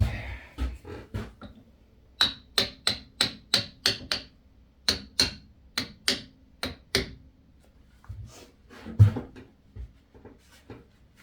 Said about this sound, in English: Heavy copper hammer and give it a tap.